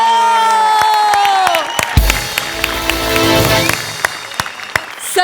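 An audience bursts into applause, cheers and whoops after a stage performance. The crowd noise rises out of a fading sustained musical tone and carries on loud and dense with scattered sharp claps.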